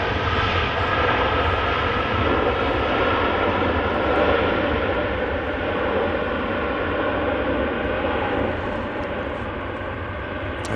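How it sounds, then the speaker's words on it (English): A Qatar Airways Airbus A350-1000 arriving from Doha lands, giving a steady, broad jet engine roar at moderate distance that holds evenly and eases slightly toward the end. "There it is, Qatar A350, 1000, arriving in from Doha."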